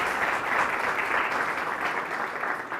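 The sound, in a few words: audience applauding to welcome panelists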